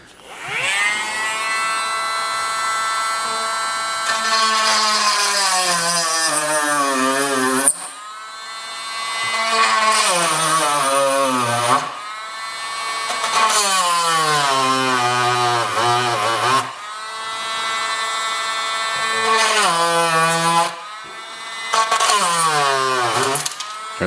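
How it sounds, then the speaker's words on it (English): A Dremel rotary tool drills out three terminals on a Tomy Hearoid during a repair, its whine rising and falling in pitch through repeated loud bursts, each run separated by a brief pause. "we're going to drill out these three terminals here. So I'm going to use a Dremel for that."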